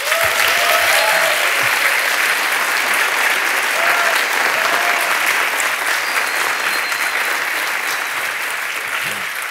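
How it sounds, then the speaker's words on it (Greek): Loud, sustained applause from a large crowd at an evening event, a dense wash of clapping that holds steady and fades only slightly toward the end, with faint voices underneath. "Θα ήθελα όμως να χαρίσουμε ένα πολύ δυνατό χειροκρότημα, πολύ ζεστό"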